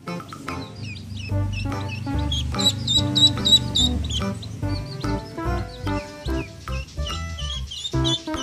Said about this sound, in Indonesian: Wah, lihat, ada anak bebek baru menetas.